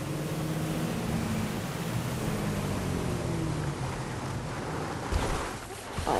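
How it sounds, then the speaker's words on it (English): Motorboat engine running on a lake in Fortnite, a steady close drone blended with rushing water and wind noise that holds throughout and swells slightly near the end. "that's where you're supposed to park the motorboat"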